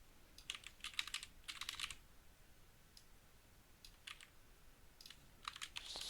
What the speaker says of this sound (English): Somehow I am failing to do anything right with my keyboard.